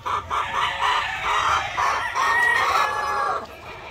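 Chickens cluck and a rooster calls in a breeding pen on a farm, the close, loud bird voices overlapping in uneven bursts with no talk.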